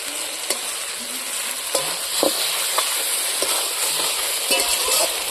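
Pigeon meat sizzles loudly with spices in a wok, with occasional scraping stirs of a spatula over the steady frying hiss.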